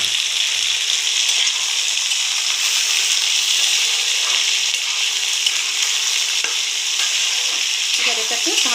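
Boiled peas tossed into a pan with potatoes for ghugni, giving a loud, steady sizzle with a continuous frying hiss and faint stirring scrapes throughout, no voices.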